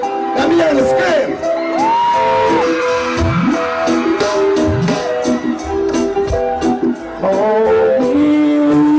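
Concert crowd at a live reggae show in St. Mary, with many women screaming and whooping loudly and continuously, close and dense, while a performer's voice and music carry on over the noise.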